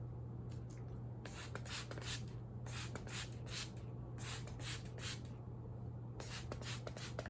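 Several short hissing bursts from a spray bottle misting water onto wavy hair, coming in quick clusters of two or three squirts, close and fairly soft over a steady low hum.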